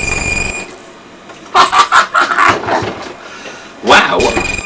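A DIY circuit-bent noise box squeals harshly and loud in a jam session, with stuttering bursts of shrill, warbling tones over a steady high whine, ending in a final piercing squeal.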